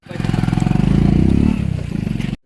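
A motorcycle engine runs close by with a steady, throbbing idle and a slight rev, rumbling loudly for a couple of seconds before cutting off abruptly.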